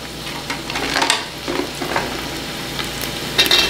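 Tomatoes hit hot oil in a pan for a South Indian dum biryani, giving a loud, steady close sizzle and fry crackle. A few sharper pops and stirring scrapes break through the sizzle.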